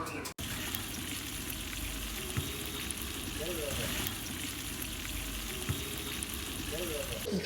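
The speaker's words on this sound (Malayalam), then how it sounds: "ചൂട് പരിപ്പ് വട വറുത്ത് കോരി വെച്ചേക്കണം കണ്ട." Lentil vada (parippu vada) fry in hot oil at a Trivandrum food stall, giving a steady, close, continuous sizzle with a few faint clinks.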